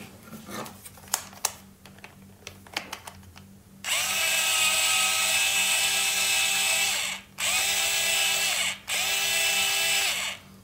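A power screwdriver spins its large bit in a car wheel screw without catching, after a few sharp clicks and taps. The close, steady high whine runs for about three seconds, then comes in two more bursts with brief stops between them.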